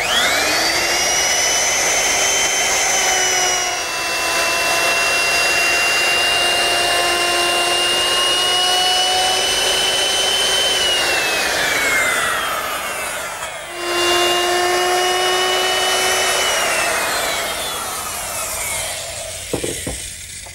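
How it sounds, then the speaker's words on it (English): A loud, steady high-pitched whine of a router molding the edges of a wooden cross piece, held for long stretches with a brief dip midway and a clatter at the end. "I just molded the 4 edges of the cross piece with the same bit"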